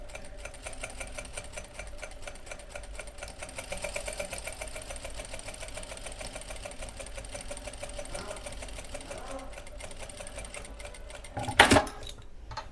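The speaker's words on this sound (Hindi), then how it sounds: "ठीक है, बस सिलाई करते रहेंगे।" A sewing machine runs steadily through a straight stitch during a silk sewing lesson, its motor and needle producing a continuous even whir for most of the stretch, with a brief louder clack near the end.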